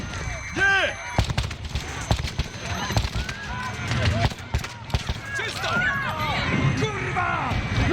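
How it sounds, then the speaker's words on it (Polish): Repeated gunshots crack through a busy Call of Duty: Modern Warfare 2 soundscape during a London terrorist encounter, with shouting voices and radio-like chatter layered over the bursts of fire. "Padły strzały"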